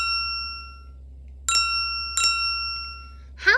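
Two clear bell dings about a second apart, each ringing out with a bright tone, then a short rising chirp at the end.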